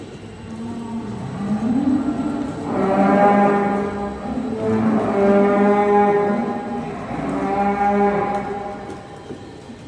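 Dairy cows in a barn with a BouMatic StreamWay milking installation give three long, loud, drawn-out moos in succession, each rising and falling, heard up close with no speech.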